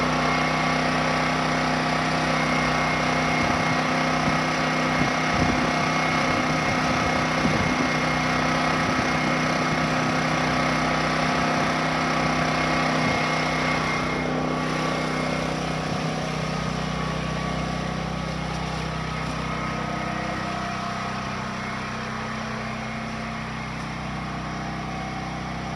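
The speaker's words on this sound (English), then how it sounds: "I already have the generator on." A portable generator, hooked to a house through an interlock kit, runs continuously with a steady droning engine hum close by, easing slightly lower in the final seconds, with no speech.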